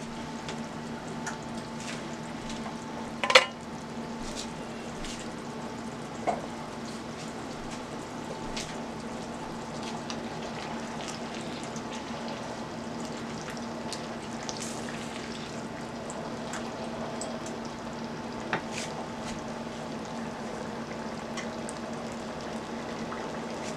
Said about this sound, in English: I'm gonna add my diced tomato